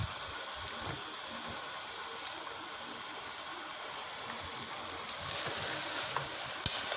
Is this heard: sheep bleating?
no